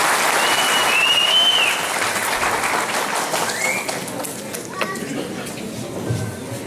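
An audience at a Turkish religious affairs office event in Eğirdir applauds steadily to invite a speaker to the podium; dense, sustained clapping fills the room and fades slightly near the end, with faint voices underneath.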